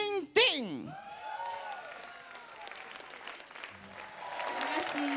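A television studio audience at an Indonesian variety show bursts into loud, sustained applause while a singing voice and the hosts' talk carry over the clapping.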